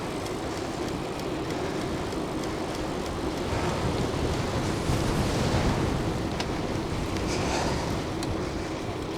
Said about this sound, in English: it's quite windy now, so this will be a test of the microphone